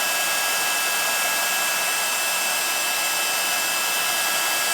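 A heat tool blows hot air steadily to emboss stamped flowers in a craft project, a continuous, loud, even hiss and whine like a hair dryer with a thin high tone, running unbroken and without speech.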